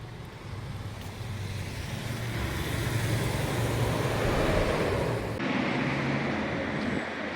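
Morning street traffic in Kathmandu, Nepal, with a steady roar of passing cars and engines close by and a continuous rumble and wind-like wash, and no voices.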